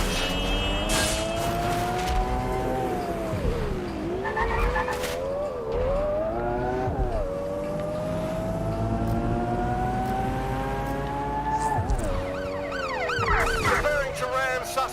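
An ambulance siren in the video game Watch Dogs Legion wails in rising and falling sweeps over a car engine, loud and continuous throughout, with other siren tones joining near the end.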